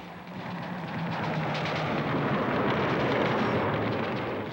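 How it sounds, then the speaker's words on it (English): Soviet-supplied SAM-2 surface-to-air missiles launching against B-52 bombers from mobile sites, a loud, continuous roaring rumble that swells and holds throughout, with no speech. "Soviet-supplied surface-to-air missiles search out the B-52s"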